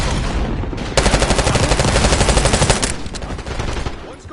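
Sustained machine gun fire from a soldier in the Black Ops 6 video game campaign, a loud rapid burst of closely spaced shots running for about two seconds amid ongoing battle noise, with louder single reports before and after.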